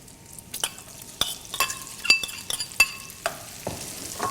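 Onions softening in a pan of light-brown bacon fat for classic baked beans, with a quiet sizzle and a series of crisp spoon clicks and scrapes against the pan, no talking.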